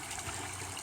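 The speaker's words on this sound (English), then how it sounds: "the water just runs, right? Runs similar to like a creek" Water from a small backyard pond runs down a creek-like stream between the upper ponds in winter, making a steady, soft, continuous trickle and rush with a low pump-like hum underneath.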